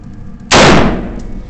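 A single semi-automatic shot from an M16 rifle cracks out loud and close, a sharp blast that rings off into a fading tail.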